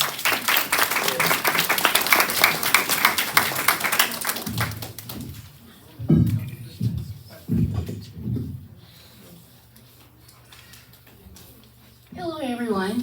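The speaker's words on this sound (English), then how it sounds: "Everybody, warm round of applause for Patricia." Applause from a variety-show audience greets a performer, dense clapping for about four seconds before it thins out into scattered low thumps and a voice near the end.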